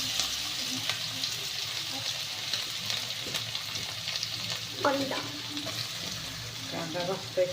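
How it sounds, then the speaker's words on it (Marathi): Mustard seeds and cumin sizzling in hot oil in a home kitchen, a steady close frying hiss with bursts of crackling pops from the seeds toward the end. "तेल तापलंय सॉरी सॉरी थोडीशी मोहरी थोडंसं जिरं"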